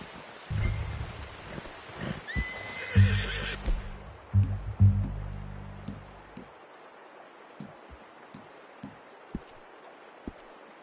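A horse neighs and whinnies loudly near the start in Red Dead Redemption 2, with hoof clops and rustling, then fades to sparse faint ticks and clicks.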